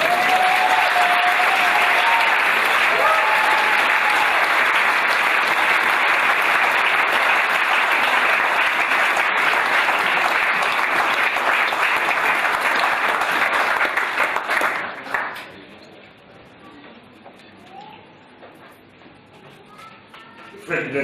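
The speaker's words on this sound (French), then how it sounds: "Acclame un peu ce tour." A church congregation claps loudly and continuously for about fifteen seconds, a dense wash of applause with voices mixed in, before it drops away to a quiet room.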